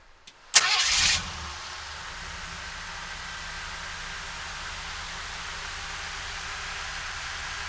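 A 1941 Ford pickup fitted with a 302 engine cranks briefly, catches with a loud burst, then settles into a steady, even idle close by.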